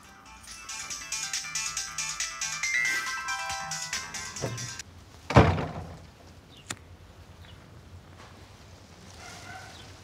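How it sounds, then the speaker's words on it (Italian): A telephone ringtone trills repeatedly for several seconds, then cuts off, followed by a loud thump and a sharp knock in a quiet interior. "telefono."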